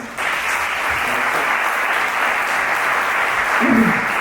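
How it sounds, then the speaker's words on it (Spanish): Lecture audience breaks into loud, sustained applause to welcome a speaker, a dense, even wash of clapping held for about four seconds with no talk. "ahora un fuerte aplauso para acoger al doctor Miguel"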